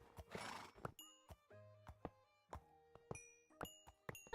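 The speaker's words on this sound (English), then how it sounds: "Oh, these are lovely horses." Minecraft horses whinnying and clopping, a close neigh followed by scattered hollow hoof thuds and taps in an uneven rhythm, fairly quiet and with no talk.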